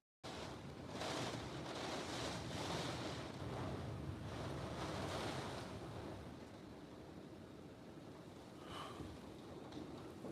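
Hurricane Beryl's wind roars in strong, continuous gusts near Clear Lake in Houston, a loud broadband rush that swells and eases slightly over ten seconds with no talk.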